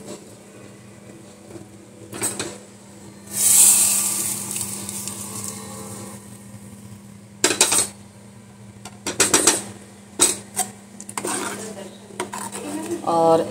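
Kheer goes into a pot with metal clanks and scrapes of a spoon against the vessel, in uneven clusters separated by quieter pauses, with a short sizzling burst early on.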